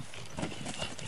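Horse hooves thud on the ground in a quick, muffled rhythm during show-jumping training at a riding arena, close and steady over outdoor noise.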